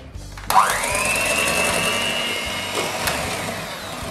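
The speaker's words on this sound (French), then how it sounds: "on va déjà monter les blancs en neige" An electric mixer whips egg whites with sugar and vanilla sugar for a trianon dessert, starting abruptly and then running in one steady, loud, high whir for several seconds.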